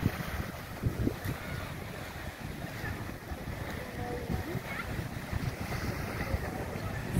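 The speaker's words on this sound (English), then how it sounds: "Just appreciating the beautiful sounds of the waves for a few seconds." Steady rushing surf at Toronto's Woodbine Beach with wind noise, a continuous broadband wash of waves breaking nearby, no voices.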